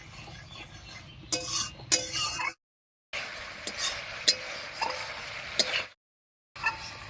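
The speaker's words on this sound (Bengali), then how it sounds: "এবারে মশলাটাকে একটু সময় নিয়ে কষিয়ে নেব" Spice paste with salt and turmeric being stirred and fried in a pan while cooking bitter gourd, scraping utensil strokes and soft sizzling with a few metallic clinks, close up, broken by brief silent gaps.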